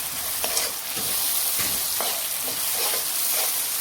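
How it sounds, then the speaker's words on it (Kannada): Masala paste frying in ghee for a crab and prawn ghee roast, a loud steady sizzle with repeated soft stirring strokes roughly every half second, close up and without speech. "ಮಸಾಲ ತುಂಬ ಒಳ್ಳೆ ಫ್ರೈ ಆಗಬೇಕು"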